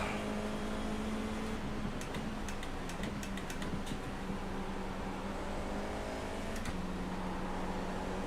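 FIA F4 race cars circling Silverstone Circuit in iRacing: a steady engine drone with gear-change shifts and a brief ticking patter, continuous and moderately loud, with no one talking.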